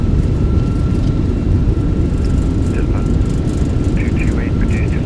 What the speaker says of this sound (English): Nose down gently, reversers are out, decelerating.